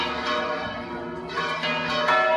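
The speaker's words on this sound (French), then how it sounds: "nous sommes saisis par un ballet de cloches tonitruantes dont l'écho se répercute dans toute la ville" Church bells in a city in Aragon, Spain ring loudly together as a dense, resonant wash of overlapping tones, with fresh strikes landing every half second or so.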